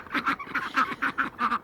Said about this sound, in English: My nutty ducks are talking.